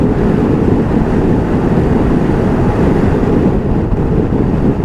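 Heavy wind buffeting a rider on a 2021 Piaggio Beverly S 400 scooter at highway speed, a loud, constant low roar with turbulent rumble filling the whole stretch and no voices.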